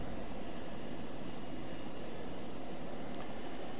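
A plane's engine in the Just Cause 2 multiplayer game roars as a steady, loud, broadband drone with a faint high whine, continuous throughout with no talking.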